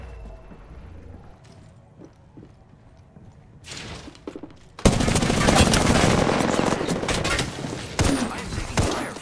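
Gunfire in a battle royale video game match: quieter game ambience at first, then a sudden loud burst of rapid automatic shots that keeps rattling densely with sharp peaks to the end.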